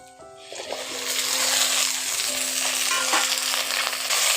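Chopped okra frying in a pan with onion and green chilli, a sizzle that swells loud after a quieter start and keeps going under light stirring clatter, with a faint tonal hum in the background.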